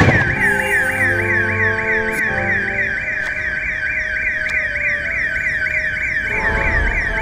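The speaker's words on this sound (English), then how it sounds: "I really don't like hearing the alarm," An alarm in the video game Wizards Unite wails loudly and without pause, a repeating warbling tone held for several seconds over game background sounds.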